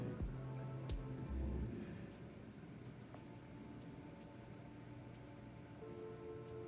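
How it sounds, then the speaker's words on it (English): Steady rain falls outside, a soft, continuous hiss at low level picked up faintly through a room microphone, with no voices over it. "y'all hear this rain on my end?"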